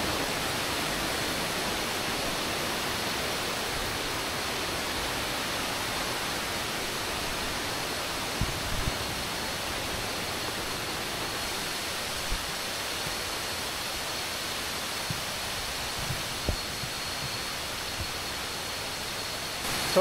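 The third tier of Bantakay Falls, a steady, dense roar of falling water heard close and unbroken, with only a few faint knocks.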